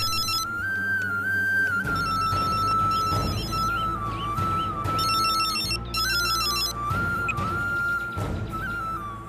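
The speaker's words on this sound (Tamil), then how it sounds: "இவங்க எதுக்கு இப்போ ஃபோன் பண்ணுறாங்க?" A phone rings with a repeating electronic ringtone melody, loud and close, cycling steadily over a low background music bed with no voices.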